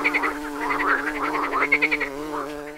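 Frogs croaking loudly and close, a dense pulsing chorus of rhythmic croaks and trills with no talking.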